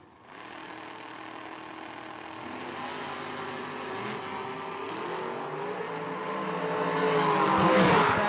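Drag race cars at Galot Motorsports Park during the K&N Spring Fling, engines building from a distant rumble into a louder roaring launch that swells toward the end, with a faint announcer voice underneath.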